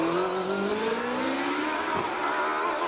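A 2-litre GWR Predator race car climbs the Prescott hillclimb, its engine screaming loud and close as it revs hard, with pitch sweeping up through the gears and a brief shift blip.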